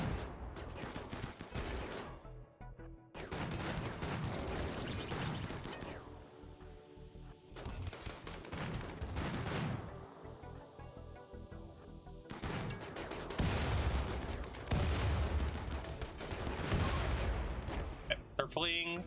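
Turret gunfire in a ship-building game, dense and continuous volleys of rapid shots and crashing impacts over most of the stretch, loud and busy, with a player's voice talking over parts of it.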